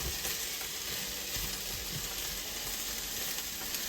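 Onions frying in a pan for shakshuka, a constant soft sizzle with light crackling throughout, fairly quiet and without voices.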